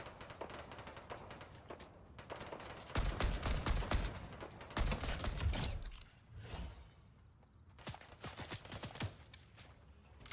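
Gunfire in a Fortnite-style building shooter game, in bursts of rapid shots between quieter stretches, moderately loud with no talk over it.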